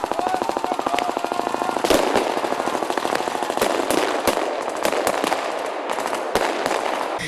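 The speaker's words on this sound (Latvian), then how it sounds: "atkal spindza lodes un sprāga lādiņi" Rapid crackling gunfire and sharp explosive bangs at an outdoor reenactment of the Christmas Battles in Valgunde parish, Latvia, marking their 95th anniversary. Dense, continuous volleys punctuated by louder booming blasts, close and loud with no voices.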